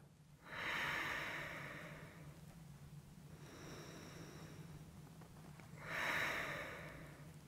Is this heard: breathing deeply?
yes